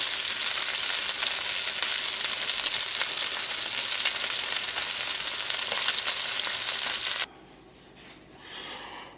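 Sea robin roe coated in cornmeal sizzles steadily and loudly in a hot pan for several seconds, then cuts off abruptly, leaving only faint room noise.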